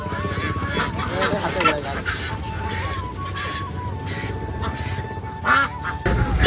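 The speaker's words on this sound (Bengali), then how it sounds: "এই যে হাঁস আসছে, আমরা এখানে হাঁস পছন্দ করছি।" Russian ducks call nearby with repeated nasal honks and quacks in uneven bursts, against a busy background of murmuring voices.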